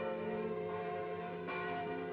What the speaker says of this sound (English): the bells were ringing